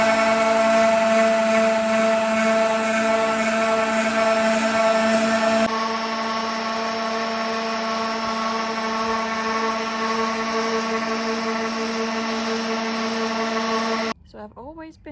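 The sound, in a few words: sanding wooden wall decor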